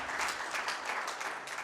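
An audience at an interfaith gathering applauds, a dense, steady wash of clapping that holds at even loudness throughout.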